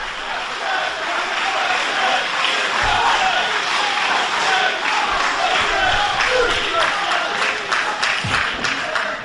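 A loud professional wrestling crowd at an EVOLVE event cheers, claps and roars continuously around the ring, with occasional low thuds under the sustained noise.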